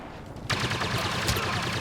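Gunfire from a Star Wars Battlefront multiplayer match on PS4: after a quiet start, a sudden burst of rapid blaster shots erupts and continues as dense, loud repeated firing with a sharp crack near the end.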